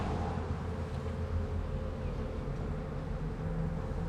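Honeybees buzz in a dense, continuous hum during a beehive inspection, with a steady low drone filling the background at moderate volume.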